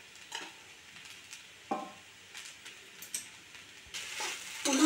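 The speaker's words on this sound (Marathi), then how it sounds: "पुन्हा एकदा साबुदाणा व्यवस्थित परतून घेते" Sabudana khichdi being sautéed in a pan, with a soft, steady sizzle under repeated spatula scrapes and stirs that come in short, uneven strokes, fairly quiet and close.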